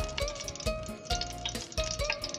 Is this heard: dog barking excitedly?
no